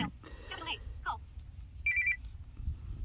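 A telephone bell rings in a short electronic burst amid background speech and low machinery rumble.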